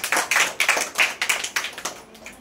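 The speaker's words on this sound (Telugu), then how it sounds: "చప్పట్లు కొట్టండి సార్ గట్టిగా." A small group claps at a birthday celebration in a church, with a burst of quick, uneven handclaps close by that fades out after about two seconds.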